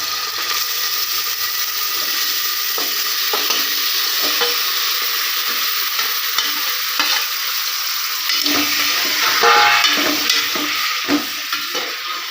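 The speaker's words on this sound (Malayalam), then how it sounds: "അതിനകത്തേക്ക് നമ്മൾ ഓയിൽ ഒഴിക്കുകയാണ് ബീഫ് ഇട്ട് കൊടുക്കാം" Loud, continuous sizzling of beef frying in hot oil in a cooker, with occasional scraping and stirring clatter over the hiss.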